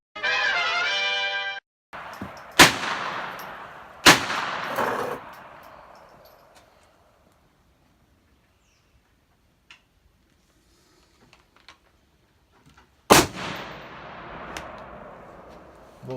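Reloaded .223 hunting rifle rounds fired over a chronograph outdoors: three sharp, loud gunshots spaced a second or more apart, each trailing off in a long echo, then a quiet gap and a fourth shot, preceded by a brief electronic tone.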